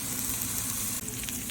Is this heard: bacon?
yes